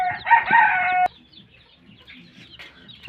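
Twelve-day-old deshi chicks cheep in a loud, dense burst for about a second before beak trimming, then fall to faint scattered peeps nearby. No one talks.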